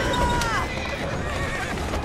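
Horse neighs loudly in an Assassin's Creed Syndicate video game scene, a single drawn-out whinny over steady background game noise and hoof clatter.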